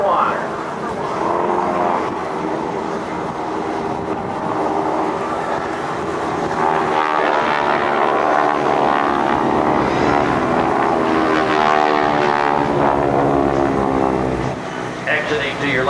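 Propeller aircraft of the GEICO Skytypers team making a low strafing pass at an air base open house, a loud sustained engine drone that swells and sweeps past under continuous announcer narration.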